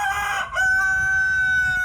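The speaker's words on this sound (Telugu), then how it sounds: "మా కోడి కూడా చెప్తుంది." A rooster crows close and loud, one full cock-a-doodle-doo with a clear, ringing tone that holds through most of the moment.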